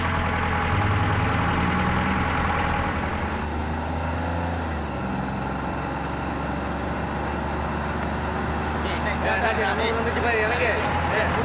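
A bus engine runs steadily as the vehicle sets off, a loud continuous low rumble that shifts in pitch partway through as it pulls away, with people talking over it.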